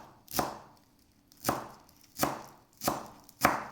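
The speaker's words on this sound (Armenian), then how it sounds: "մանր կտրատում ենք" Knife chopping green onion and coriander on a board in five sharp, evenly spaced strikes, close and crisp with brief pauses between.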